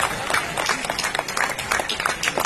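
Brief burst of audience clapping at an Urdu mushaira in an auditorium, held by the West Bengal Urdu Academy, scattered claps over a steady crowd murmur, moderately loud and short.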